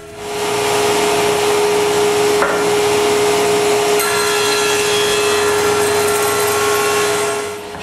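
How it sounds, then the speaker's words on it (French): A table saw blade cuts wooden interior door panels with a steady, loud whine that runs for most of the stretch. A brief knock comes partway through, and the cut fades out at the end. "Ensuite, chaque panneau y est passé sa lame de scie."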